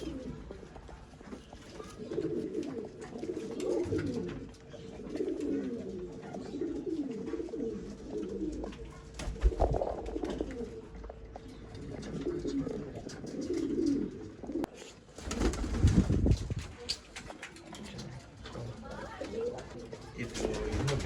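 Old-line pigeons cooing in a loft in Bangalore, soft repeated low coos rising and falling throughout, close by, with people talking in the background.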